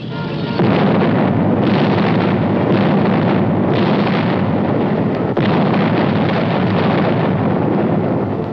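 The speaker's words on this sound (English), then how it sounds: "the enemy was kept off balance with our artillery fire." WWII artillery fire in archival footage from Operation Dragoon, a loud sustained rumbling roar of blasts with wind-buffeted noise, without voices.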